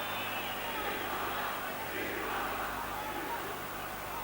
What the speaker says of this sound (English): A vociferous chants from particularly the City crowd